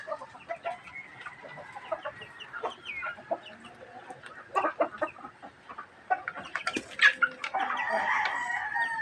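Small chickens clucking and pecking while feeding, with a scatter of close, soft clucks and short calls, a brief crow-like cry and busier chatter building toward the end.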